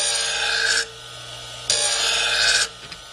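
Pinking shears are sharpened on a sharpening wheel in two loud, close, bright grinding passes, each under a second long, separated by the low hum of the running wheel.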